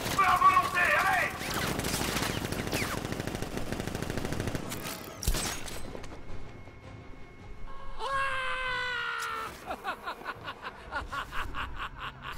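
Gunfire in the video game Batman: Arkham Knight, a fast volley of rapid shots and bursts blended with game noise, followed later by a clipped, repeating rattle of shots.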